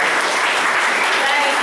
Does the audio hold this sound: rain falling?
no